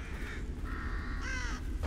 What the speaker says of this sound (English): It's a very large bird.